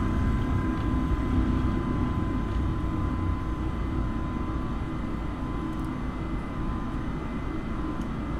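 Airbus A320 jet engines roar at takeoff power in a flight simulator, a loud steady broadband rumble with a faint whine that holds on through the whole takeoff roll, with no speech.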